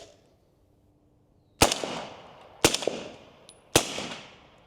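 Three shots from a suppressed Omega 9K firing subsonic ammunition on gas setting 1, each a sharp muffled crack with short decay, evenly spaced after a quiet start, no talk.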